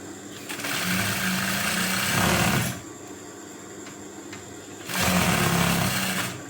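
A sewing machine stitches a shirt collar in two loud, steady bursts of running motor and needle clatter, separated by a quieter pause, close to the microphone with no talk.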